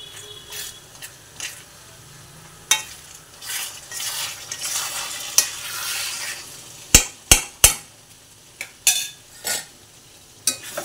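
Muri ghonto with ghee added is stirred in a pan, soft scraping and gentle sizzling punctuated by several sharp metallic clinks of a spoon against the pot near the end.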